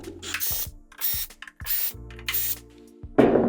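Screws come out of the side cover of a JBL Partybox 720 speaker, heard as several short whirring bursts from a close driver with clicks between them.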